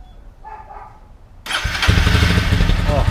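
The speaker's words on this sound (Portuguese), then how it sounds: "Vamos ligar primeiro a moto pra vocês verem como que tá o som dela com esse escape que tá nela, que é o estralador." A motorcycle fitted with an estralador exhaust cranks briefly after a quiet moment, then fires up into a loud, close, rough running roar that continues to the end.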